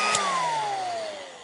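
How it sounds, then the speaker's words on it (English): A small handheld hair dryer blows hot air at a resistor, a steady whirring blast with a whine that slowly falls in pitch as it runs, fairly close and alone. "So this is a very expensive, little dryer, hair dryer. And what I'm going to do is blow some hot air"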